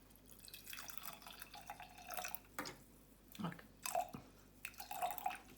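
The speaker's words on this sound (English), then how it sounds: "This is really strong vinegar, so I'm only going to be filling my bottle just 1/3 of the way." Strong double-strength vinegar pours into a bottle in a few short bursts, with small trickling and dripping sounds close by and no talking.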